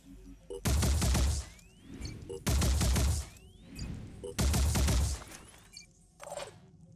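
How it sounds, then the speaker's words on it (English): Three heavy, loud gun bursts in Phoenix Point, each a booming blast lasting about a second with rumbling tails, evenly spaced, followed by a smaller final hit. "I guess I'll just keep shooting it"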